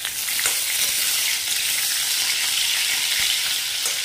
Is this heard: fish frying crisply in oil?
yes